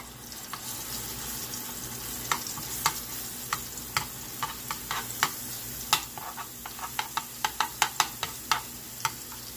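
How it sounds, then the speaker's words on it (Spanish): Garlic sautés in a splash of oil for a chayote and coconut stew, a steady soft sizzle broken by sharp utensil scrapes and taps that cluster toward the end, with no voices. "Le vamos a poner un chorrito de aceite primero. Después de poner el chorrito de aceite, vamos a poner el ajo primero"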